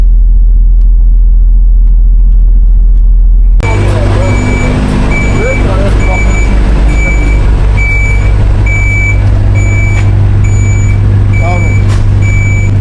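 A truck reverses slowly toward a loading ramp while loading a trailer with flowers, its engine rumbling loudly and close as a reversing alarm beeps in a steady, regular rhythm; the first few seconds hold only a low hum.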